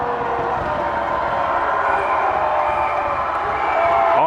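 A basketball crowd at a championship finish on an outdoor court, a steady roar of cheering voices swelling slightly toward the end, with an announcer talking over it.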